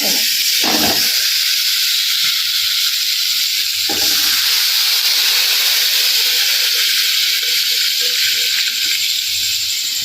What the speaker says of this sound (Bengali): ডিমটা ভেজে দিয়েছি, তার জল দিয়ে দেবো